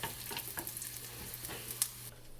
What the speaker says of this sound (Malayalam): നമ്മുടെ ഉള്ളി ചെറുതായിട്ട് മൂപ്പിട്ട് വരുന്നുണ്ട്.